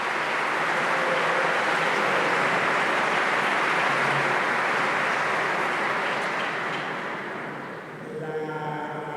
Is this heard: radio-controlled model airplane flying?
no